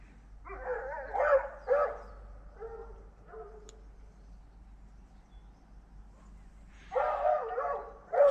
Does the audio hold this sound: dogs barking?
yes